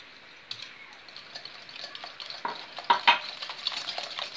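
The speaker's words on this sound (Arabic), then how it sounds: "ونضرب البيض مع السكر يتجانسوا مع بعضياتهم ويذوب السكر" Eggs and sugar are beaten together in a bowl for brownie batter, giving a quiet, irregular scraping and clicking of a whisk against the bowl that grows a little louder and busier toward the end.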